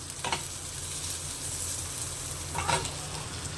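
Thin, long strips of brinjal fry in a pan with curry leaves, making a steady, close sizzle with two brief louder crackles of stirring.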